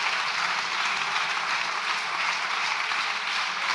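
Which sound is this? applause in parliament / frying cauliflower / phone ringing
applause in parliament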